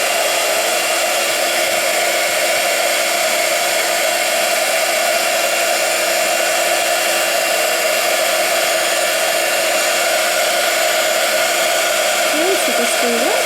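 Heat tool blowing on embossing powder in a lidded holder, a loud continuous whirring hiss of fan and air running steadily throughout, close to the listener.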